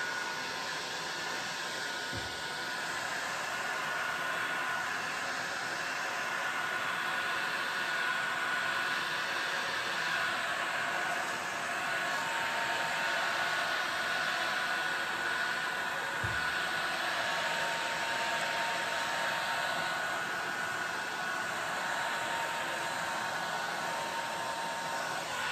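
An air blower runs steadily and loudly throughout, blowing colored resin for a butterfly handle board, a continuous broadband rushing hiss with no pauses and no voices.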